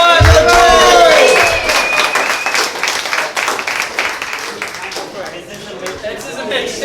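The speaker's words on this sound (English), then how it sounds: "Give her a round of applause for Joy!" A crowd at an awards thank-you event breaks into loud applause with cheers and whoops, the clapping sustained and gradually tapering off.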